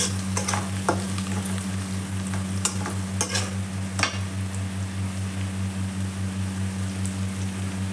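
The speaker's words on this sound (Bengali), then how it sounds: "সমস্ত মশলা দিয়ে পেঁয়াজটাকে ভালোভাবে নেড়ে চেড়ে নেব" Onion stir-fried with ground spices in a pan for halim, a soft crackling sizzle with a few sharp spatula scrapes and a steady low hum beneath, close up.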